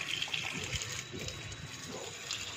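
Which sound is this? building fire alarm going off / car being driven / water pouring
water pouring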